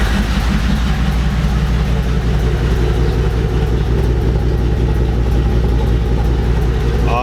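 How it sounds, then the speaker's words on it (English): A Chevrolet Silverado truck engine idles steadily and close, a continuous low rumble with a faint ticking valve chatter running through it, no talk. "Yeah, I can hear that glorious valve chatter."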